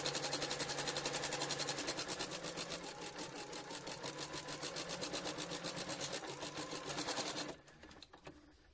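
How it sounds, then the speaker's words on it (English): A sewing machine runs in a fast, even mechanical rhythm as it stitches a fabric opening closed, loud and close, then stops abruptly near the end, leaving a few faint handling noises. "Start at the opening to sew that closed."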